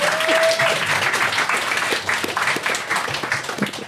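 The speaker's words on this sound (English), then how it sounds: "Can we have a round of applause, please, for Claire?" Steady, full applause from a live fringe comedy show audience, many hands clapping closely together for several seconds with a faint murmur of the crowd.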